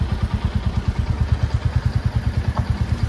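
Motorcycles labour along a muddy road between Pokhara and Mustang, their engines throbbing in a steady rapid pulse of low thumps, fairly close and continuous with no talk.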